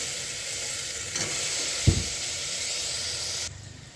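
Potato and ghevda beans sauté in a hot pan with turmeric, chili powder and salt, a constant close hiss with a sharp scrape of the spoon near the middle and no talk.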